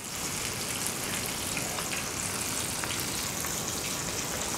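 Skin-on, scaled bluegill fillets fry in a hot pan, giving off a steady, dense sizzle that stays even and unbroken, with no voices over it.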